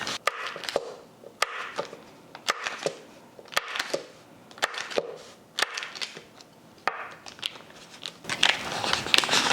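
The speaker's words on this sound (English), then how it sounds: "We have 2 sticks of butter that we need to cut in little chunks before we add it." Two sticks of butter being cut into small chunks, a series of sharp knife taps and chops on a board, irregular and fairly close, with a denser clatter toward the end.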